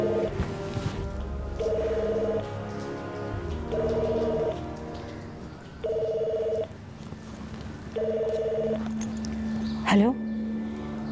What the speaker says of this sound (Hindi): देखिए फिर से फोन कर रहा है।